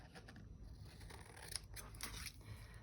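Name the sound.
scissors cutting sticky paper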